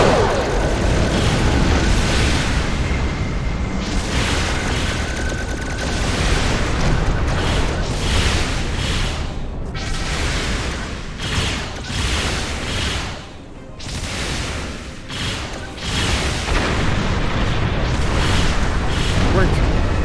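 Starship weapons fire and explosions from a space battle in Star Trek Online, with dense, continuous booms and crashes layered over each other for the whole stretch, alongside voices and a loud, busy background.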